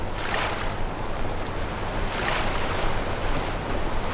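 Rushing water from a small waterfall in the video game Enderal, a Skyrim mod, sounds as a steady, full-bodied wash of splashing and churning, close and continuous with no voices.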